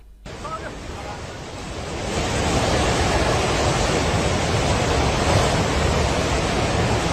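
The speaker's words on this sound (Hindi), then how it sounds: "सैलाब घरों के ऊपर से बहने लगा।" Floodwater from a flash flood in Nepal rushes in a loud, steady roar that swells after the first couple of seconds and stays dense and unbroken, with no voices over it.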